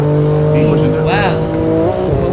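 Video-game racing car squealing its tires as it spins out, a high warbling screech rising and bending over a steady engine drone; loud and continuous, with players' voices talking over it.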